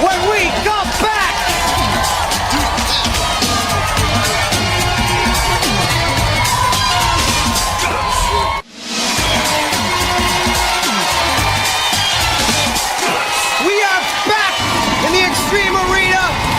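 A studio audience at a kids' sports competition show roars and cheers loudly and continuously, with children shouting and whooping, a brief cut midway, and an announcer's voice running over the crowd.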